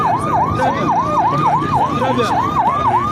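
An ambulance siren wails in a steady rising-and-falling cycle, loud and close, repeating about every third of a second over street rumble and traffic noise at an accident scene in Kananga.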